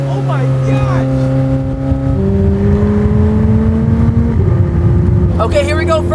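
McLaren 765LT Spider engine on its first drive, a loud steady drone that shifts pitch in stages as the car pulls away, heard from inside the cabin with someone talking over it.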